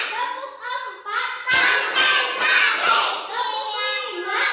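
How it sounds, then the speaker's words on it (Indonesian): A classroom joins in a rhythmic clapping chant, groups of sharp claps in counted patterns led by a teacher, with a voice chanting between the bursts. "Tepuk satu, tepuk dua, tepuk tiga, tepuk empat"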